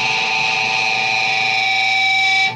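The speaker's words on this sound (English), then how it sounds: "I get the feedback" Guitar feedback from a PB-1000 through a Boss Metal Zone pedal sets up as a steady, loud sustained howl of held tones, cutting off abruptly near the end.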